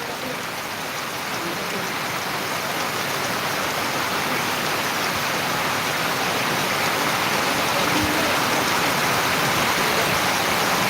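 Heavy monsoon rain pours steadily in Buldhana, a dense, loud, unbroken hiss that holds for the full stretch with no voices.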